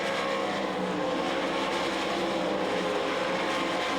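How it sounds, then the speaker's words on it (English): Sprint cars racing at the Knoxville Nationals speedway, a dense continuous engine roar from the pack at moderate distance, steady and unbroken with no voices. "Trout makes the pass of the Right 1 Construction car number 35W to move up into the 3rd spot"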